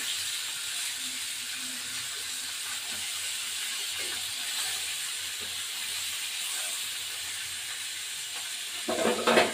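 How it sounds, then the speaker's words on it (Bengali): Bori, sun-dried lentil dumplings, fry in oil in a pan with a constant hissing sizzle that swells into louder crackling at the very end. "বড়িটা ভাজতে হবে একটু।"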